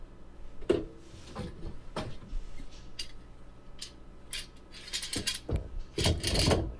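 A clamp is cranked down to hold a cabinet door on a tabletop during a van conversion build, giving a few sharp ratcheting clicks and mechanical taps spaced through the clip, the busiest at the end.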